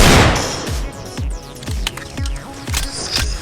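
Rapid bursts of gunfire in the Roblox video game, a string of sharp, loud shots with metallic mechanical clatter between them, fast and close.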